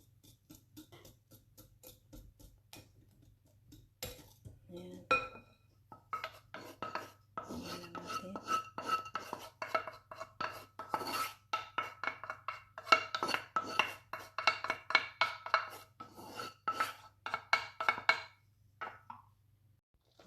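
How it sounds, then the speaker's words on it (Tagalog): Chocolate brownie mixture stirred in a bowl, giving a steady run of close scraping and rasping strokes with light clinks against the bowl, rhythmic and continuous, with no talking. "ihalo na natin tong ating chocolate mixture. Haluin natin mabuti"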